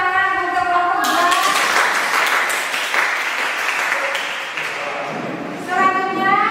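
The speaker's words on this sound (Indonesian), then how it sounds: "Ayo, mari kita kasih tepuk tangan untuk kelompok 2." Classroom applause for a student presentation group during a chemistry lesson, a burst of many hands clapping for several seconds alongside tonal sounds at the start and end.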